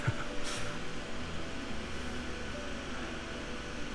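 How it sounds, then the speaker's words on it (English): A steady, low mechanical hum of an electric fan running close by, constant and unbroken with no talking. "sorry about the noise, because I have a fan right here"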